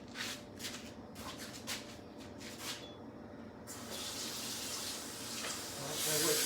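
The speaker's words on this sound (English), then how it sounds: "I'm gonna go wash my hands and I will be right back." Tap water runs into a sink for handwashing in a home kitchen, faint bursts of splashing that settle into a steady stream.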